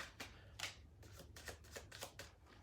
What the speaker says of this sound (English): I kind of just shuffle until I have enough cards